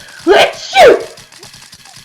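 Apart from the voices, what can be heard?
character sneezing in a video game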